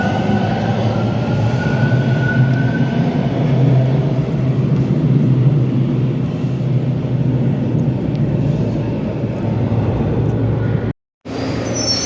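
A train passes at a station in Canada as a steady, loud rumble of wheels and carriages with a continuous roar and no talk, broken by a short cut near the end.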